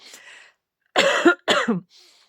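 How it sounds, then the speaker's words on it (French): Two harsh, close coughs in quick succession, preceded by a faint breathy sound and followed by a soft exhale. "En vous disant ça, je tousse."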